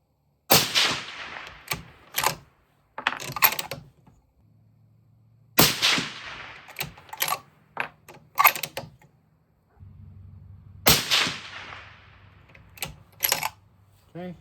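Three rifle shots from a 25 Creedmoor loaded with 135 Berger Hybrid bullets ring out one at a time, several seconds apart. Each sharp crack is followed by clicks and rattles of the bolt, with a low hum between shots.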